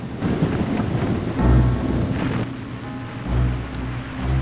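Rain pours steadily in The Hobbit video game while deep thunder rumbles roll in twice, loud and close, with no voices.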